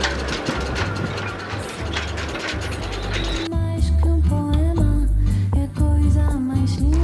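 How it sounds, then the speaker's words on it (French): Wind rattles the cables against sailboat masts in a harbour. Steady gusty noise gives way to metallic clinks and ringing tones that ping irregularly over the rush of air. "c'est le vent sur les mâts"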